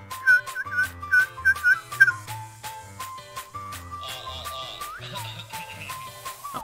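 A person whistles a short melodic tune up close, with rhythmic beats from a song underneath.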